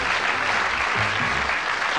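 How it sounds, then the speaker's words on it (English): A crowd applauds loudly and continuously for departing contestants on a game show, a thick, even roar of clapping with no pauses and little else audible. "Give them a round of applause as they go off."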